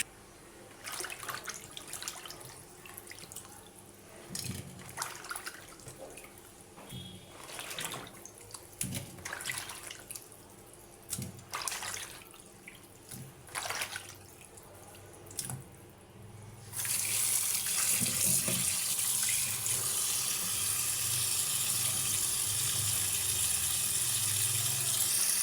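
Cut kaski fish being washed by hand in a sink, with soft splashing and handling noises at first, then a loud steady rush of tap water taking over for the last several seconds, alone without voices.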